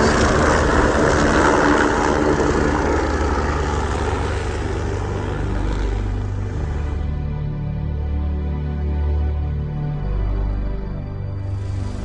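A helicopter's engine and rotor drone steadily up close, loud at first, then softening to a lower, throbbing hum.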